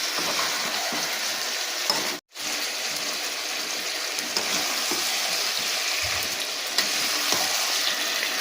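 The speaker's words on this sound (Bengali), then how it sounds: "এবার আমি এটাকে ভালো করে কষবো আলুটা প্রায় সেদ্ধ হয়েই এসছে" Potatoes for aloo dum with turmeric sautéing in a pan, a steady close sizzle throughout with soft stirring scrapes and one brief cut to silence partway through.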